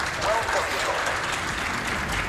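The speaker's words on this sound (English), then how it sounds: "Can we get a round of applause, please?" A speedrun event audience breaks into steady, dense applause, a continuous wash of clapping that holds evenly throughout.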